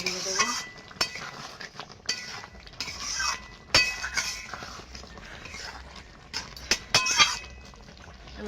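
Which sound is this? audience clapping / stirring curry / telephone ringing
stirring curry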